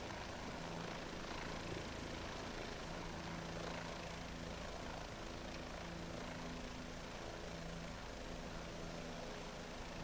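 A steady, loud Bell 407 helicopter rotor and turbine drone from the X-Plane 11 flight simulator game, holding constant for the whole stretch with no voices.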